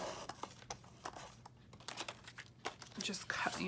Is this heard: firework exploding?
no